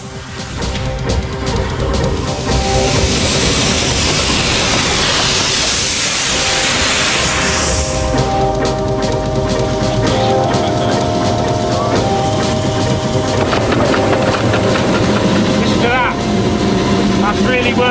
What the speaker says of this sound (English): That's really working now, as you start a real big ascent.